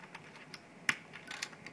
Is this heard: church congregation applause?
no